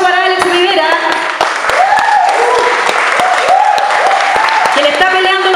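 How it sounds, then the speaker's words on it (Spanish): Applause at a youth theatre festival in Curacautín, steady crowd clapping under a loud speaking voice over a public address system. "Un gran aplauso para Alex Rivera"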